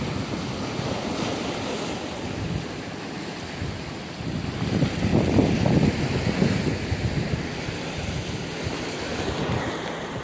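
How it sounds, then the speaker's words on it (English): Ocean waves surge and splash over onto the French coast amid heavy wind rumbling against the microphone, swelling louder midway before easing back. "the waves are really splashing over once every while. And the wind is quite strong"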